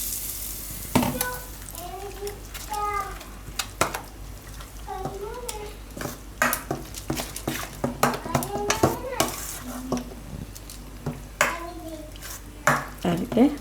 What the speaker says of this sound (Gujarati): આ રીતે મિક્સ કરી લેવાનું.